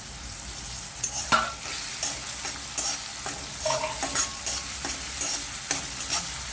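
Curry leaves, with ginger and garlic, crackle and sizzle loudly in hot oil for a street-style vada pav, a dense spitting fry with sharp pops and brief clinks, and no talk.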